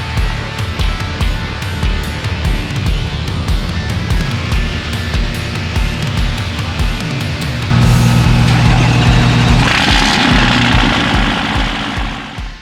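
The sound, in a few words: vehicle pulling around a corner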